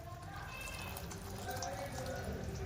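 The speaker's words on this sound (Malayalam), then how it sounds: "കുറച്ച് വെള്ളം കൂടെ ഒഴിച്ച് കൊടുക്കുന്നുണ്ട്" Warm water is poured into a pan of Punjabi chicken gravy, a faint, thin liquid trickle and splash heard up close and continuing steadily.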